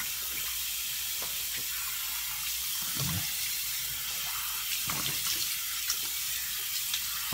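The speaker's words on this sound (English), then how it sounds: "gonna rinse my face with warm water" Warm tap water runs into a bathroom sink while a face is rinsed: a constant close hiss of flowing water with faint splashes and hand movements breaking through now and then.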